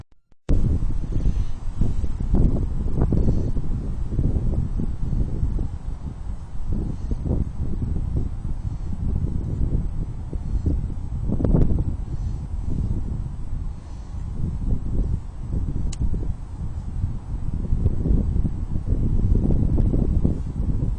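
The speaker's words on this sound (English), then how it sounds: "Pretty windy out here" Gusty outdoor wind buffets the microphone in low rumbling bursts, rising and falling throughout with no one speaking.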